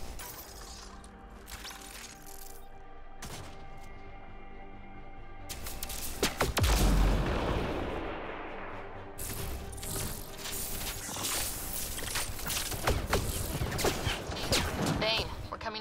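Sniper rifle fire in Mass Effect Andromeda, a sharp crashing blast partway through amid busy game noise, with speech around it and ongoing combat clatter afterward.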